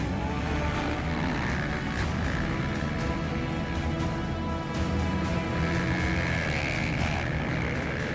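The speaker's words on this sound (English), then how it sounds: "The first groups of 10 bikes leave." A group of ten motorbikes leaving the start line at the 2015 Finke Desert Race: a loud, continuous engine roar that swells steadily, with no voices.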